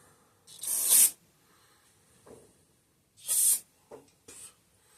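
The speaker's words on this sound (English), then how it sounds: "Now let's try spraying through it." Cleaner sprayed through a part from an antique McCulloch generator that sat in a flooded basement, heard as several hissing bursts: two long, loud blasts and a few shorter puffs, with near-silent gaps between them.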